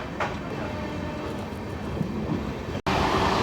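The Seer Govardhanpur Varanasi Express runs at full speed past Jalandhar Cantt, giving a dense, continuous rumble and rattle of wheels and carriages close by, with one brief cut near the end and no talk.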